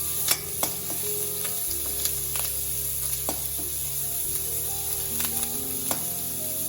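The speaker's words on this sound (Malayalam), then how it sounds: "ഇത് ചെറുതായി ഒന്ന് വഴണ്ടി വന്നാൽ മതി." Ginger and curry leaves sauté in oil in a pan, giving a continuous close sizzle with scattered stirring scrapes and clicks, with no voices.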